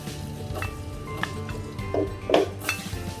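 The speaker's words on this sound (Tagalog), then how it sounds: "So, magsimula na tayong mag-saute, guys. So, magsasaute na tayo." Garlic sautéing in oil in a home-kitchen pan for fried lumpia, a steady sizzle under clinks of a utensil against the pan and a few sharper scrapes as it is stirred.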